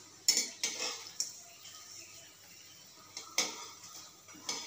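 Kulekhara leaf fritters are lifted out of a frying pan with a metal utensil, giving a few sharp clinks and scrapes spaced over several seconds against a quiet background.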